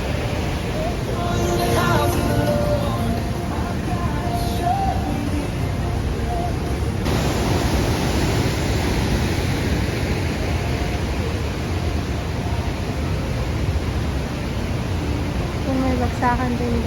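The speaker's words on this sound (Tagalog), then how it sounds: "Ito yung pababa na falls niya." Sunwapta Falls roars as a steady, loud broadband rush of falling water that fills the whole stretch, with faint voices at the start.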